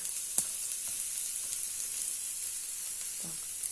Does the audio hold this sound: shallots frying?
yes